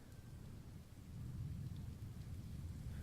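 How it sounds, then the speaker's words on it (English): Steady rain with rumbling thunder in the video game Open Sorcery, a dense low roar that swells louder after the first second and keeps up without a break. "It is raining."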